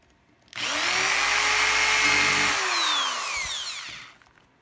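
A loud, close power drill runs one sustained burst of about three and a half seconds as a heavy bit grinds into a Canon 100-400mm lens. The pitch whines and shifts while it cuts, and no one speaks.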